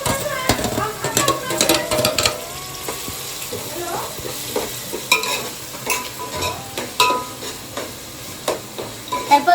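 Ginger garlic paste sizzles as it fries in a chicken curry pot, with steady stirring and scraping clatter from a spoon against the pot throughout, close and fairly loud.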